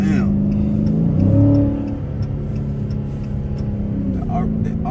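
A Dodge Challenger Hellcat widebody's engine rumbles and revs close by, swelling briefly before settling into a steady, heavy idle-to-cruise drone, with voices talking over it.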